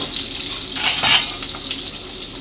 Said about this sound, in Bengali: দিয়েছি তেল, দেখতে পাচ্ছেন তেলটা গরম হয়ে গেছে। আমি দিয়ে দিচ্ছি পেঁয়াজগুলো,